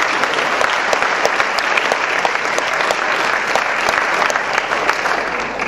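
Sustained, dense applause from a dinner audience at the 2008 Greater Wesley Chapel Chamber awards dinner, many hands clapping evenly and fairly loud, with faint crowd murmur beneath.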